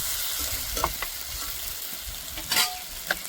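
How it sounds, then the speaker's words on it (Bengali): Water poured into sizzling masala for a pointed gourd and prawn curry brings an ongoing fry hiss with stirring, then a sharp louder burst of sputtering near the end. "এবার দিয়ে দেবো জল।"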